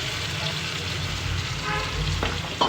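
Fish curry being stirred in a hot pan, with a continuous close sizzle and bubbling plus soft utensil movement, ending in a brief knock.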